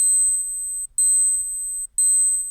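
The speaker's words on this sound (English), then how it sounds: "I think you can test the alarm by holding this top button" A Seiko SPC131P1 perpetual calendar chronograph watch sounds its alarm in a test: three long, shrill electronic beeps about a second apart, quiet but held close to the microphone.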